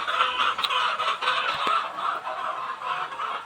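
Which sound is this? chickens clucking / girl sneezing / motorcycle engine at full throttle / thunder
chickens clucking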